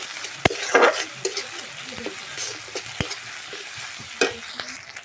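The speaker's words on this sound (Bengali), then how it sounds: "এবারে আমি মশলাটাকে কষিয়ে নেব, যাতে কাঁচা গন্ধটা না থাকে আদা রসুনের।" Ginger and garlic paste frying in oil in a pan for an egg curry, with a continuous close sizzle broken by sharp spatula knocks and scraping strokes.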